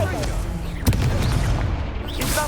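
A fire spell cast in the video game Hogwarts Legacy during a duel, a sudden burst midway through continuous loud battle noise, with a shouted voice over the din.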